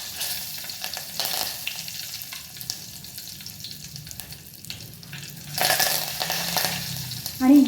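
Curry leaves hit hot oil already tempered with mustard seeds, asafoetida and turmeric, bursting into a loud crackling sizzle that swells again near the end, close and continuous with some stirring.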